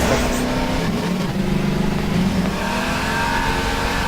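Car engine in the video game Half-Life 2, revving steadily and continuously while driving during a race, loud and close throughout, with no talking.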